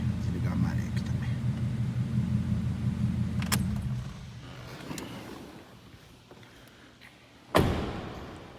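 A Fiat Marea's idling engine rumbles steadily and then shuts off, followed by keys jangling, a few thumps and a sharp slam, with a voice speaking nearby.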